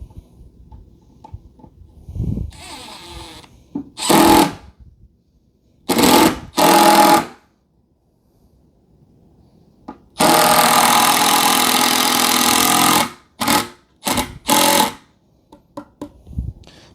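A cordless power drill drives wood screws into a wooden vacuum stand in short bursts of high whirring, one longer run of about three seconds and several brief pulses separated by quiet pauses, close and loud.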